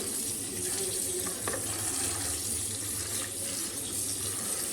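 Tap water runs continuously into a vessel to soak fourteen clay lamps, a steady splashing gush heard close up and alone.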